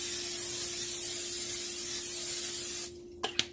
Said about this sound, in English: I'm going to go ahead and spray some butter flavored spray onto the pan.